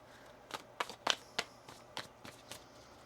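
A deck of tarot cards is shuffled by hand, giving a run of soft, crisp riffling snaps at uneven intervals, quiet and close up.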